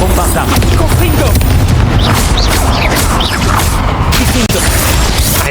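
Bombarda and Confringo explosion spells go off in the Hogwarts Legacy video game, a loud, dense run of booming blasts and crashes that fills the whole stretch with no pause.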